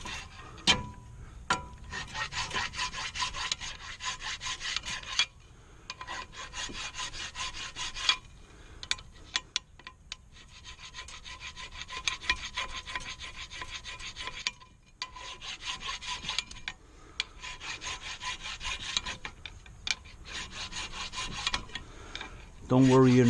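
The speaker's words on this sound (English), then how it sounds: "you're not gonna wear your brake bracket out by doing a little bit of filing on it" A file rasps against a Chevy Impala front brake caliper bracket in repeated scraping strokes, separated by short pauses, close and moderately loud, with no voices.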